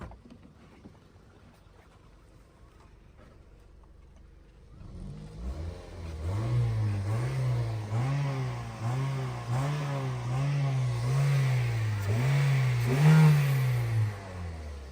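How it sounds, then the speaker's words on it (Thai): After a few quiet seconds, the engine of a 2012 Toyota Vios 1.5 automatic starts and revs repeatedly in steady swells, loud and close, with no talking. "เดี๋ยวเรามาฟังเสียงเครื่อง ยนต์กันสักนิดหนึ่งนะครับผมเสียงเบิ้ลเครื่อง"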